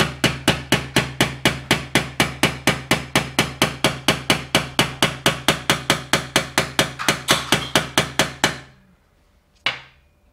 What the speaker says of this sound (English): Make sure the sensor is lined up with the fins. It's not an angle, otherwise it might damage the radiator. And just very gently tap it in.